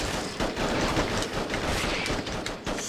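Dense, continuous gunfire bursts from the Attack of the Movies 3D video game, a loud sustained barrage of rapid shots with no pauses and no talking.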